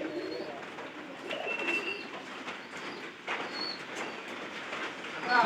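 Pigeons kept indoors in a house on a rainy day coo softly and steadily, a low, continuous murmur close by with no voices.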